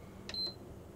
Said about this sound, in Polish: tylko pik, a ci nie zapala lampka.